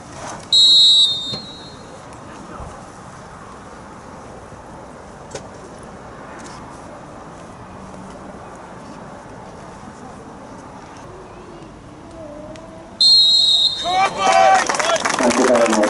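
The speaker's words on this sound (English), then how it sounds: "We've got to do a minute's silence on the referee's whistle." A referee's whistle blows sharply at a football ground to open a minute's silence, followed by a long hush of faint ambient crowd noise, then a second whistle blast ending it as applause and murmuring break out.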